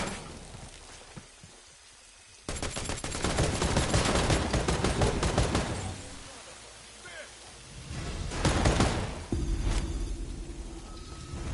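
Gunfire in the video game Predator: Hunting Grounds, dense rattling bursts of shots that swell and fade over the clip, heard beneath a voice speaking.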